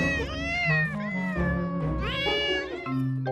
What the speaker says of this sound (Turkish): İşte benim kedilerim.